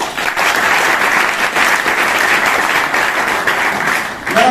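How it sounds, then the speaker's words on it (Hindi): Loud, sustained applause from a large seminar audience, dense steady clapping filling the whole stretch and thinning slightly at the end. "तालियां लगा"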